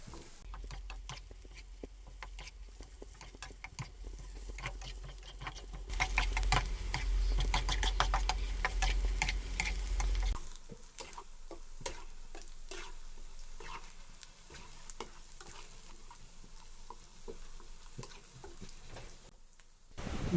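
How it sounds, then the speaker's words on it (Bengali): Onions frying and being stirred in a pan, a continuous sizzle with scraping stirs that swells louder midway, then settles to a steadier, quieter crackle. "প্রথমে আমরা পেঁয়াজ ভালো করে ভেজে নেব।"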